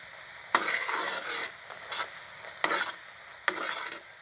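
Shallots and tamarind pulp being stirred and fried in a hot pan, with a steady sizzle broken by several bursts of scraping stirring, close and fairly loud, no talking.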